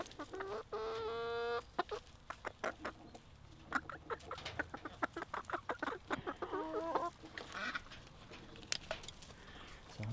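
Backyard coop hens cluck and squawk in bursts, close and fairly loud, with a few sharper calls and duck-like quacks mixed in over about ten seconds, no talking.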